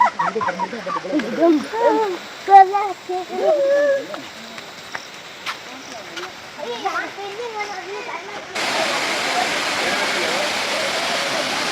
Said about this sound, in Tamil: பாலா கொட்டுது பாருங்க பால் அருவியில.